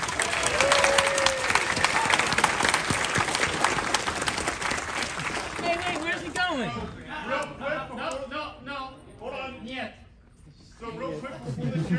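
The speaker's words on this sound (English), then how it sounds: "round of applause to Commander Fox here finally showing up." Convention audience at a furry convention opening ceremony applauds and cheers loudly for several seconds, a dense wash of clapping and shouts that fades toward the end, with voices talking over it.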